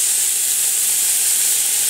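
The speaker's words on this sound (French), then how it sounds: "je vais faire revenir mes petits oignons" Chopped onions and lardons sizzle as they sauté in a pan while stuffed quail are being prepared, a steady, bright hiss of frying with no breaks, close and fairly loud.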